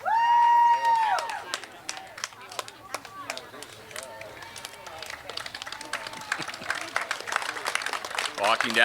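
A crowd applauds and cheers as couples walk in at a high school prom walk-in, steady clapping with crowd noise under an announcer's amplified voice.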